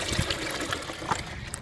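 Concentrated maple sap poured into an evaporator, a close, continuous trickling and splashing of liquid with small uneven bursts, no speech.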